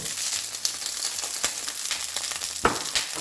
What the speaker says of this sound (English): And in here, we are going to cook our blistered cherry tomatoes.